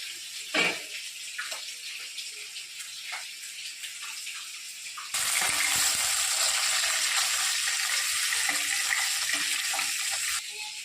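Rohu fish fry in hot oil in a kadai with a sudden, steady, loud sizzling hiss that starts partway through and continues, after a quieter stretch of faint crackling.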